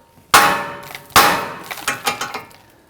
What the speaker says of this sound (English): Now we're going to use our hammer. We're going to strike the knuckle here.